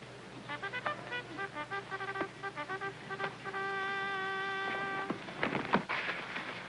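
A brass bugle plays the cavalry call "Boots and Saddles," a brisk run of short repeated notes, then holds a long sustained tone, sounding somewhat distant.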